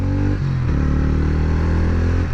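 A TVS 250cc motorcycle pulls hard in first gear. The engine drone is loud and close, and its pitch climbs steadily as it revs up.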